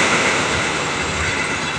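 Majapahit passenger train hauled by a CC 201 locomotive pulls away from Cikarang station, a steady broadband rumble and rolling roar sustained at close range throughout, loud and even with no voices.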